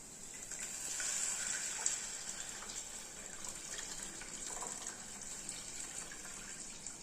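Dissolved tomato liquid is poured into a pan for tomato rasam, a faint, steady watery pour and gush that swells early and then runs on quietly.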